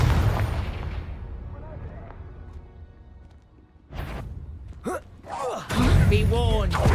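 Confringo spell explosions in Hogwarts Legacy, a heavy rumbling boom fading out, then a series of sharp bursts and crackling blasts building to a loud close, with voices in the game.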